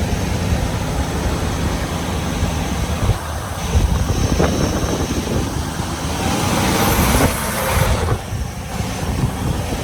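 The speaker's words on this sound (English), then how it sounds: "Yes, the engine sounds very good, eh?" Chevy C30 dually pickup with a 400 V8 running, a steady rumbling engine drone that swells and eases over about ten seconds, with road and wind noise and no talk.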